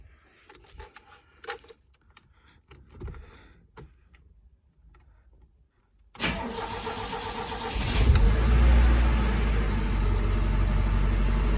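Keys jingle and rattle with a few light clinks, then a BMW E21's engine cranks and catches, settling into a steady close idle.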